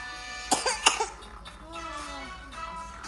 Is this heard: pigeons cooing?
no